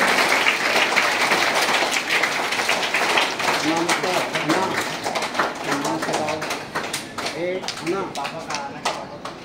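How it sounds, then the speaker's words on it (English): Audience applause for a class 10 rank holder at a school awards ceremony, a broad patter of clapping filling the hall and thinning out toward the end, with voices heard over it. "Please clap for her."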